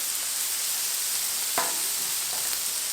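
Shrimp stir fry with peppers sizzling on a Blackstone griddle at medium heat, a steady, close, even hiss with one brief scrape midway and a fainter one near the end, with no talk.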